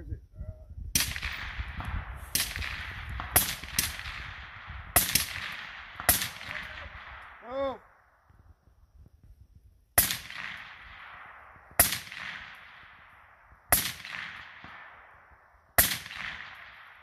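Designated marksman rifles fire during a bounding drill outdoors, with nine or so loud, sharp shots at irregular spacing, each followed by a long rolling echo; a voice shouts briefly between shots.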